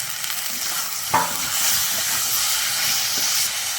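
Onion-tomato masala with turmeric, chilli powder and peas sautéing in a pan for Bengali egg curry, a continuous hissing sizzle with a single clack of a spatula early on.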